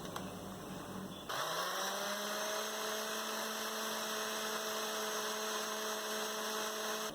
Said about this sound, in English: And all I'm gonna do is give this a quick puree.